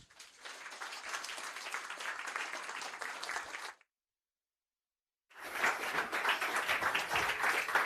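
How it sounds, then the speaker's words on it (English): Audience applause welcomes two speakers onto the stage at a live podcast recording; a long burst of clapping from a crowd, then a brief silence, then a second full round of applause. "the applause was much better than it usually is"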